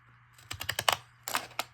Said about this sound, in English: I'm cutting just in from this square edge to give it this fancy shape with these Fiskars Victorian is what these are.